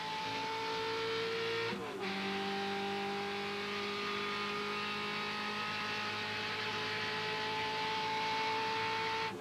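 Coors Light Corvette race car in a 2003 Speed GT round at Road Atlanta, heard on board: a loud, steady engine drone with a brief gear-change dip near the start, then sustained high revs down the straight.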